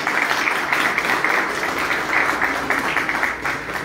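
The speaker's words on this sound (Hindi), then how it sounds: "परवेज साहब, आपकी तालियों में परवेज साहब तशरीफ लाएं।" Steady applause from the audience at a pigeon club prize distribution ceremony in Haripur, a dense, continuous patter of many hands that holds evenly for the whole stretch.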